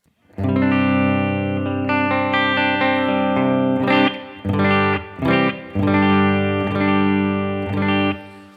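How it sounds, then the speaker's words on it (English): A clean, sustained electric guitar patch on a Headrush unit playing chords, with a soft reverb tail ringing after each strum, loud and close with brief pauses between phrases. "Let's go ahead and listen to our clean patch. I have a little bit of reverb in here."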